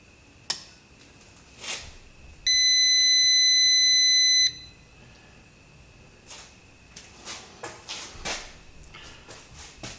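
A loud electronic beep from a battery box sounds for about two seconds during instrument cluster work on a 1982 Ford F150, with a faint steady tone behind it and scattered clicks and taps around it.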